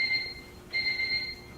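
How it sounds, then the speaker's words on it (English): An electronic alarm beeps in two long, shrill bursts with a brief gap between them, moderately loud in an otherwise quiet room during a storm-hit day. "It sounds like some sort of an alarm."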